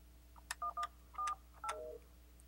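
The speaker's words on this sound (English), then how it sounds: "we'll place a call to a number I already know is busy" Touch-tone keypad tones dialed on an Alcatel-Lucent 8068s desk phone, a handful of short clear beeps in an uneven quick sequence, close and clean over a quiet hum.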